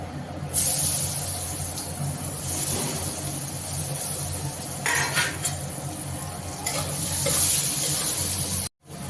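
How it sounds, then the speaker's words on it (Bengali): Potatoes frying in oil give off a steady, loud broadband hiss that runs the whole time, with a few brief swells in the sizzle. "এখন আমার আলুগুলো ভাজা হয়ে গেছে,"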